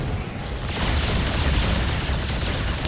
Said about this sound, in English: This one battlecruiser is slowly destroying the base.